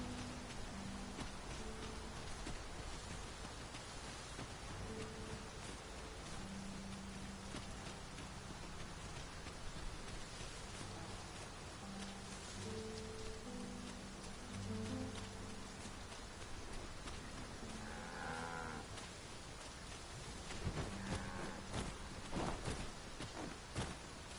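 Heavy rain downpour in the video game Dragon's Dogma 2, a steady dense hiss of falling rain lasting throughout at moderate level, with low game ambience and occasional soft thuds underneath.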